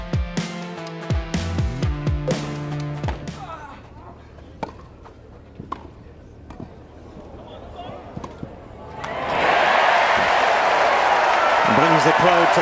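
Tennis crowd at a match erupting into loud sustained cheering and applause after a spectacular Andy Murray shot, rising suddenly and holding steady after commentary over scattered earlier claps.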